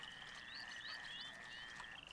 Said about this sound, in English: But now you want me to kill frogs.